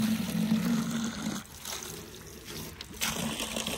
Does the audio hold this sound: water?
yes